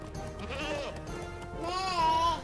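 A goat in the video game Crash Bandicoot N. Sane Trilogy, in the Warped level, bleats with wavering, nasal cries over game music, louder toward the end.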